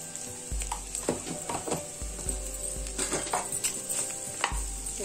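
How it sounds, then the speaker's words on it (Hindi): Potato filling with spices and tea powder frying for bread rolls, a soft continuous sizzle broken by repeated scraping strokes of a spoon against the pan and a few light clinks. "इसको डाल करके फ्राई करते रहिए"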